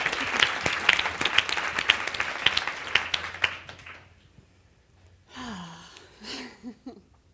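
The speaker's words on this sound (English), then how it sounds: "round of applause for Lucenda!" A panel audience at a client success event breaks into loud, crisp applause for a speaker, fading out after about four seconds, followed by a quieter stretch where a voice speaks briefly near the end.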